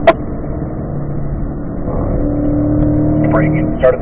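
A car engine hums steadily and builds in pitch as it accelerates in third gear downhill, heard from inside the vehicle, with a brief whine near the end.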